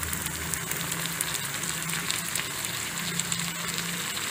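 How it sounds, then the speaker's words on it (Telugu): Tomatoes go into a pan of frying onions and green peas for a tomato curry, a steady, close hiss of sizzling oil that holds evenly throughout with no one talking. "ఇప్పుడు టమాటాలు వేద్దాము"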